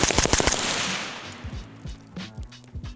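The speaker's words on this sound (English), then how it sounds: "Let's shoot into this berm over here, see if you guys can see this recoil." Rifle shots fired into a dirt berm outdoors, a rapid string of loud, close cracks at the start followed by more spaced shots and echoing reports, with no talking.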